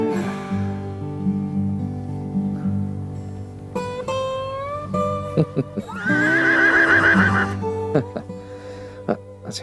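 Horses neigh and whinny with high, wavering calls, one loud close whinny standing out midway, along with hoof clip-clops and people talking in between.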